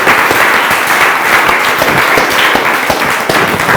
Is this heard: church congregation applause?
yes